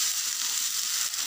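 Halwa mixture frying in ghee over a medium flame, a continuous bright hissing sizzle, close and steady with no voices.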